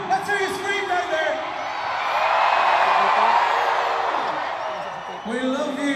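A large concert crowd at a show at AsiaWorld-Expo in Hong Kong screams and cheers. A broad roar swells to a peak midway, then fades, with brief voices at the start and end.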